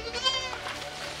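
A goat, one of a small herd of eight kept by an elderly woman, gives a close, drawn-out wavering bleat that fills the moment.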